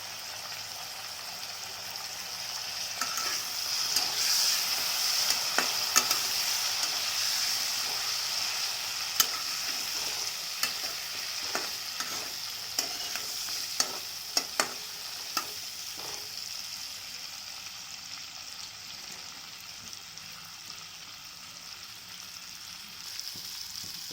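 Small cut potato pieces with turmeric fry in a pan, giving a soft, even sizzle broken by light stirring ticks and scrapes. The sound is fairly quiet but close, with no voices.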